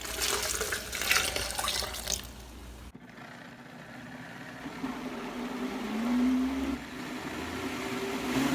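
Warm water runs from a kitchen sink tap, a steady broadband rush for the first few seconds, then a softer, lower-toned flow that continues close by with no talking.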